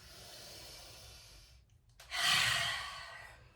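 Deep breathing during a vinyasa yoga forward fold: a soft, steady airflow, a brief pause, then a loud open-mouth exhale that rushes out close to the listener and slowly fades.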